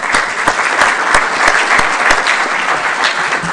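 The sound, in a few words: applause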